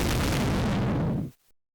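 A loud, roaring explosion fills the clip with a broad rumbling blast, then cuts off abruptly into silence.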